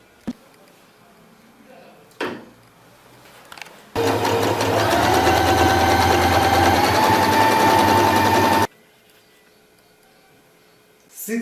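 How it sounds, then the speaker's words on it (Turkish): A Janome 1522 sewing machine runs a steady stitching burst of about four and a half seconds, including a reverse stitch to lock the seam, loud and close with quiet pauses before and after. "Dikişimizi sağlamlaştırmak için geri tuşumuzu yapıyoruz."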